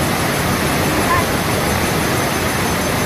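Panchalingeswar waterfall crashes with a loud, constant roar of rushing water. The broad wall of noise holds steady from start to finish.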